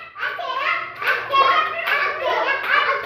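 Children clap their hands during an indoor play activity, a few short bursts of claps mixed with a teacher's and kids' voices talking over them nearby.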